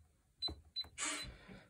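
Costco gun safe opening with metallic clicks and a clunk as its 1-inch active bolts retract, followed by a longer scraping rattle of the door and mechanism, close and fairly quiet.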